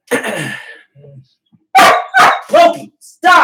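A dog barks in five loud, close bursts, each sharp and repeated after a short gap, with a brief whimper-like sound between them and a person talking at the start.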